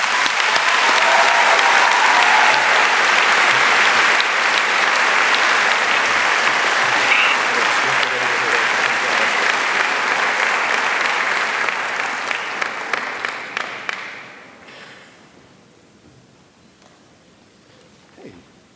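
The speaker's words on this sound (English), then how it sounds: "a round of applause" Audience at a 2019 high school graduation ceremony in Dunkirk, NY gives a long, loud round of applause that holds steady, then thins into scattered claps and fades out near the end.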